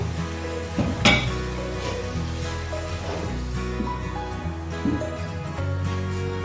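Metal lid set onto a cooking pot of chana dal with tomatoes and spices, a sharp clank followed by lighter clinks and rattles over a steady low kitchen hum, no voices.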